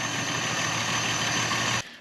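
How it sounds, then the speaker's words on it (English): A fifty-year-old Volvo 164E revived after sitting for twenty years idles with a steady, rough low rumble and no throttle response, close and without talk, cutting off near the end. "But she's coming around, she's idling, still won't take any throttle."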